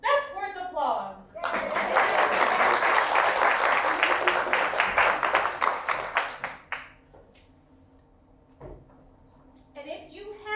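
Loud sustained applause from an audience at a live event in St. Paul, Minnesota, dense clapping for several seconds before fading out into quiet, with a few voices at the edges.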